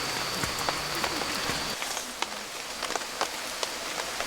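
Heavy rain pours steadily over a campsite during a bonfire camping trip, a dense continuous hiss with scattered sharper drops striking nearby surfaces, loud and close throughout with no talking.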